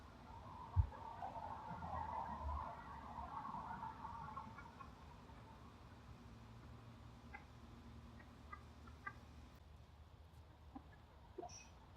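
Chickens cluck softly at a distance over low background noise, with a few scattered ticks and taps near the end, as they are offered roasted pumpkin seeds.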